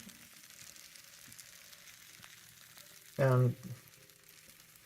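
Skillet cornbread sizzles faintly in a hot pan with a soft steady hiss up close, briefly interrupted by a short spoken word.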